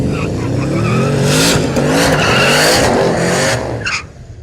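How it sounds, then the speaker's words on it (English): Holden VE and VY Commodore cars at a drag strip test-and-tune night, engines roaring loudly and steadily with tire squeal, sustained for several seconds before easing off near the end. "Nice little black VE Commodore there, running over into the other lane of VY Commodore. Good looking cars still, making a nice little noise."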